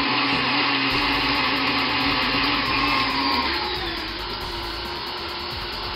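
An electric mixer whirs loudly and steadily while beating cookie dough, its motor pitch rising and shifting about halfway through as the speed goes up.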